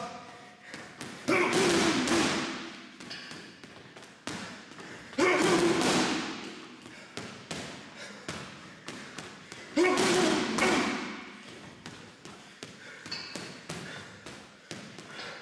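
Punches thudding into a heavy bag in a triple-shot drill, coming in three loud bursts of rapid impacts spaced several seconds apart, with a trainer's voice calling out between them.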